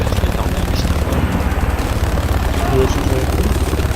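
A helicopter in a military shooter video game drones with a steady rotor chop and engine hum, loud and continuous throughout.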